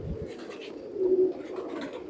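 Nearby pigeons give soft, low cooing calls, a short murmuring coo swelling and fading over a quiet background.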